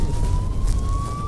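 An ambulance siren sounds as a steady wailing tone over heavy road noise while driving in traffic, close and fairly loud for the whole moment.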